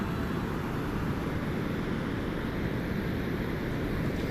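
Waterfall in the video game Guild Wars 2, a steady broadband rushing roar of falling water that stays constant and fairly loud throughout, with no other sounds over it.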